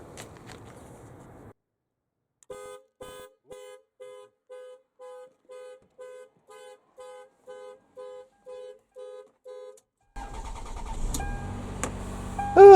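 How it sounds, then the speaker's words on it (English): A car alarm blares in steady, evenly spaced honks about a dozen times while a car is jump-started with a TACKLIFE T8 MAX jump starter, then the engine cranks and catches, rumbling loudly up close. "Alarm went off"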